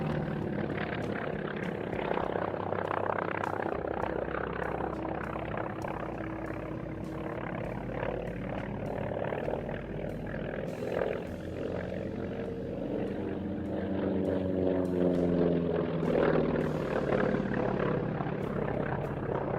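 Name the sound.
Grumman fighter aircraft propeller engine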